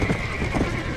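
A horse's hooves clop briefly in the farm video game GTA da Roça, a short burst of rough, dense footfalls over steady background noise.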